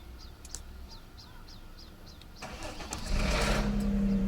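A V6 car engine cranks and fires on a 75 amp battery: quiet outdoor ambience with birds chirping gives way to a rising mechanical whir, then the engine catches and settles into a loud, steady running rumble near the end.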